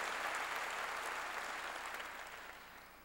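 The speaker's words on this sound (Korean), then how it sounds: "박수로 하나님께 영광 돌려야죠" A church congregation applauds during a sermon, a soft, even wash of many hands clapping that slowly fades toward the end.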